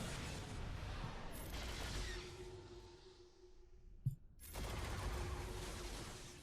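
Gunfire in the General's Command video game: a continuous rattling fusillade of shots that briefly thins out, then a single sharp hit and silence before the dense firing resumes.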